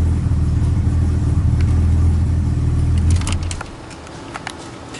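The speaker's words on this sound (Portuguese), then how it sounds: "Vamos fazer um cold start ali no ômega azul," A Chevrolet Omega 4.1 engine on a cold start, a loud close rumbling idle that holds steady, then drops sharply in level toward the end, leaving faint clicks and clatter.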